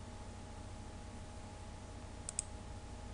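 A few faint computer mouse clicks, two close together near the end, in an otherwise quiet room with a steady background hiss.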